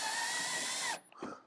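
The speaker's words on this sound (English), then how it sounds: "Bonus points for Eric using a Milwaukee drill" A Milwaukee cordless drill whines steadily as it drives screws while a handle is fitted to an M18 forced-air propane heater, then cuts off, leaving a few faint clicks and handling knocks close by.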